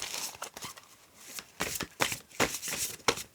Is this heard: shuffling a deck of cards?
yes